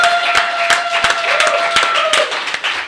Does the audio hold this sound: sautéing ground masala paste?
no